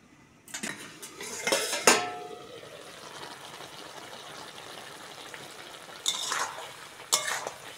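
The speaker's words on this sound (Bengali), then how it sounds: "ঢাকা খুলে দেখে নেব।" A lid comes off a pot of simmering Bengali vegetable curry with potatoes, giving sharp metallic clanks and scrapes near the start, then a quiet low bubbling, and a few more clinks of metal utensils toward the end.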